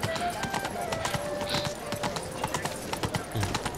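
Horse hooves clip-clop steadily in The Witcher 3 video game, a quick even stream of light, close hoof knocks over faint background ambience.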